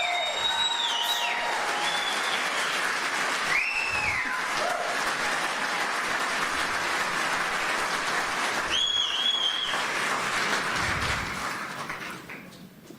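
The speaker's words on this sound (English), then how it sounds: "Let's give him another round of applause." Sustained audience applause fills an evening community event after a speaker is honoured, steady and dense with cheers and whistles rising briefly over it, before tapering off near the end.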